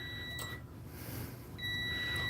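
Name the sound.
multimeter continuity test beep on fuse holder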